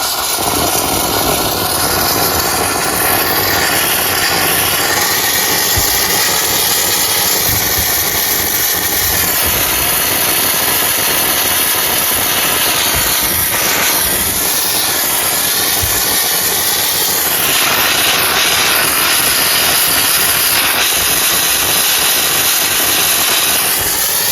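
A portable steam cleaner runs continuously and loudly, its harsh steady hiss and motor hum changing pitch in stages as the system primes and heats, with no one speaking.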